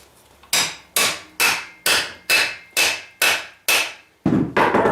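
Nine sharp, loud metal-on-metal hammer blows strike a punch to drive out a badly seized, rusted rear axle on a Honda CRF110F, evenly spaced about half a second apart with ringing decay, close up and without speech.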